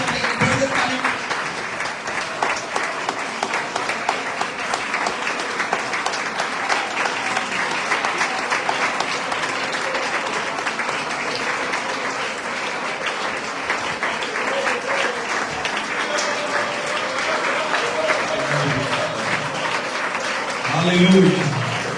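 A church congregation applauds during a sermon, with sustained, dense clapping filling the hall for the whole stretch while a voice carries over it, swelling slightly near the end.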